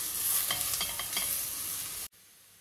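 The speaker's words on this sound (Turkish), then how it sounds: "güzel bir şekilde soğanımı, sarımsağımı kavuracağım" Steady sizzle of onions frying in a pan with faint stirring scrapes, then it cuts off abruptly near the end.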